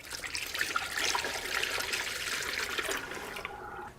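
Coolant pours through a funnel into the cooling system of a 2006-2010 Subaru Forester with an EJ25 engine during a head gasket job. It makes a steady, close-up gurgle and trickle for about three seconds, then fades out.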